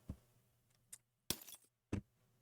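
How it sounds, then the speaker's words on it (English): A breaking-glass sound effect triggered by rolling a natural one during a Grim Hollow tabletop role-playing session: a few quiet, separate tinkling glass clinks and a brief shattering burst, with no talking. "whenever you roll a natural one for anybody, it will actually do like a broken glass sound effect"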